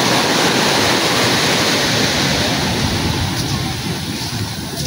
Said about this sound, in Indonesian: ombaknya cukup bersahabat ini ombaknya